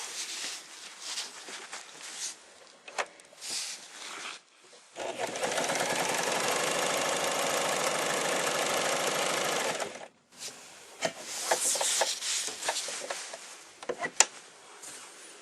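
An Elna Swiss sewing machine (220/240 model) runs steadily through a zigzag stitch, a loud continuous mechanical whir of several seconds set between quieter clicks, handling noises and pauses.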